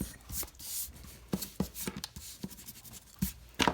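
Pencil marks being erased from paper: short dry rubbing bursts, close and fairly quiet, with pauses between strokes and no talk.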